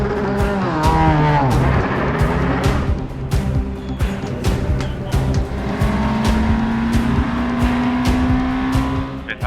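LMP2 prototype race cars at Le Castellet during qualifying, loud engines roaring and revving through gear changes as cars blast past close by, with sharp tonal whines and repeated passes over nine seconds.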